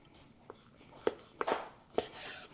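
A knife slicing through smoked, marinated pork ribs, giving four or five close, crisp cuts and taps against a board at irregular intervals, fairly quiet and with no talking.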